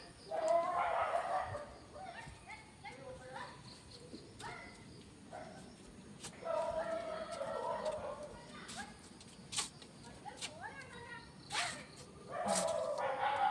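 A small dog yaps in short bursts of high, sharp barks, fairly close, outside a house in Kerala, alongside chirping birds and brief stretches of quieter outdoor ambience.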